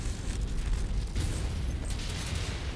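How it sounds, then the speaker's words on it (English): Ammo explosion of a mech in the MechWarrior 5 video game: a dense, sustained rumbling blast with crackling bursts, loud and continuous throughout, no talk. "He's got an ammo explosion."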